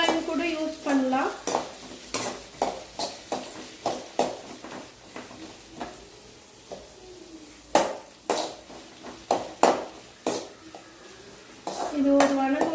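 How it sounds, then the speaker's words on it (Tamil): Onions sautéing in a pan: rhythmic stirring strokes scrape and clack against the metal roughly every half second, with a constant sizzle beneath and a brief pause mid-way, up close and fairly loud. "வெங்காயத்தை வணக்கிக்கலாம்."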